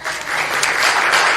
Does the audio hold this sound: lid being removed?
no